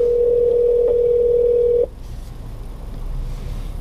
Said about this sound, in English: calling my extension again, so nobody's going to be there to answer since I'm out here